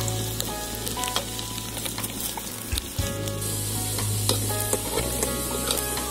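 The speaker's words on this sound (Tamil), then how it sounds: "பூண்டு வதங்கிருச்சு" Garlic sautéing in hot oil with dried chillies in a village kitchen, a dense steady sizzle with stirring scrapes and a few clinks close by, no voices.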